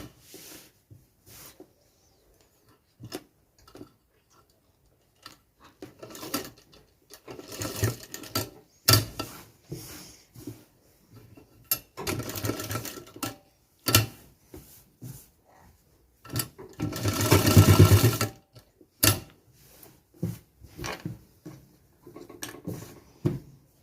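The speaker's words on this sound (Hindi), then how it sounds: "ये मार्जिन आगे की साइड करके 8-10 इंच तक नीचे सिलाई चला देंगे" A tailor's sewing machine stitches cloth in short bursts of rapid mechanical whirring, separated by pauses and small clicks, close by with a longer run near the end.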